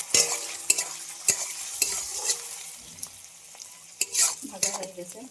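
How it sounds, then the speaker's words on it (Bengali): Shrimp fry in the oil left over from frying an egg, a soft steady sizzle broken by sharp taps and scrapes of a spatula against the pan at irregular intervals. "ডিম ভাজা তেলের মধ্যে চিংড়ি মাছগুলোকে ভেজে নেব।"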